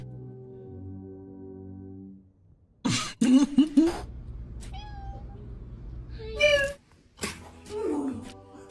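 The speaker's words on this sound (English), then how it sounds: "Kittens just suck at hissing." A kitten makes several short, breathy hisses and a small meow-like squeak in bursts, close and fairly loud, with a person talking before and between them.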